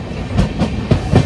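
Train wheels clatter along the rails on a Kalyan to Bangalore journey, a steady rhythmic clickety-clack heard from inside the carriage with no talking.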